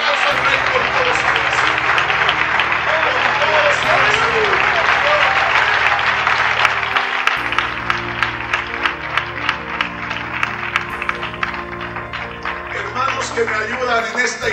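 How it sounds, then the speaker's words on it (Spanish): A church congregation claps loudly and steadily in a dense wash of applause over a sustained musical backdrop. The clapping keeps going, and distinct individual claps stand out toward the end. "Un aplauso al Rey por todo su"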